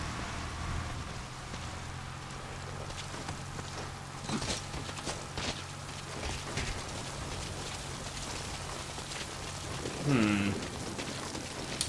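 Steady rain pattering on surfaces in the video game Metal Gear Solid 5: Ground Zeroes, soft and continuous, with a brief faint voice near the end.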